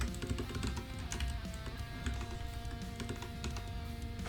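Clicky keystrokes on a computer keyboard in a home studio, a quick irregular run of taps at close range over a faint steady hum.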